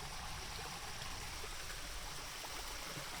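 New Hampshire's tallest waterfall at sunrise, a steady broadband roar of rushing falling water, continuous and fairly distant, with no voices.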